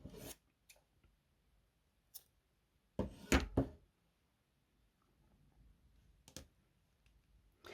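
Scissors snip a yarn end during crochet with a few quiet, crisp cuts and small handling rustles, close-up and otherwise near silent.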